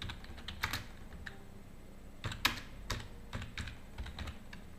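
Keys clatter on a computer keyboard as a French lesson title is typed, with scattered clicks and small bursts of quick strokes over a faint room hum, no voices.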